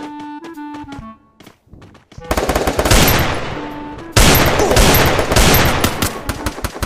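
Bursts of automatic gunfire in the Free Fire battle royale game, loud, dense and sustained rapid fire with a brief pause mid-way, following a few short musical game tones at the start.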